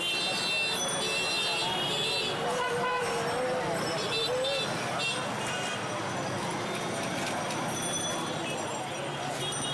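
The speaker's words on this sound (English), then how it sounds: "Even if traffic is at a complete standstill, horns are always honking." Car horns blaring in congested Dhaka street traffic, high tooting tones repeating over a constant roar of vehicles and crowd, with a voice speaking over the din.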